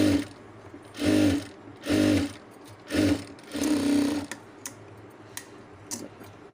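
A sewing machine stitches the lining of a blouse front in four short, loud whirring bursts, each under a second, followed by a few faint clicks and taps of the mechanism.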